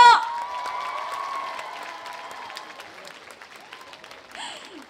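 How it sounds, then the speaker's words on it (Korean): A crowd at an outdoor opening concert of the Okcheon seedling festival claps, starting with a loud burst that settles into a softer, thinning patter of applause over several seconds. "여러분 박수 한번 주세요"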